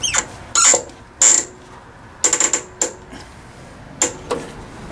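A ratchet tightens down a 50 amp electrical line connection on a Martin Diesel generator set. Short bursts of close metallic clicks come in uneven groups with pauses between them.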